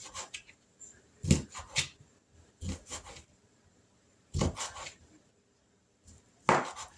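A knife on a cutting board makes sharp chopping thuds in short uneven bursts, with a faint kitchen background between them, while sausage, cabbage and onion are cut.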